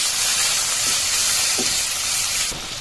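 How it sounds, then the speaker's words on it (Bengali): Salted, turmeric-coated prawns frying in hot oil in a pan, a loud steady sizzle and hiss that holds throughout with a few faint stirring knocks, and no voices. "এখানে চিংড়ি মাছগুলোকে ভালোভাবে লালভাবে ভেজে নেব"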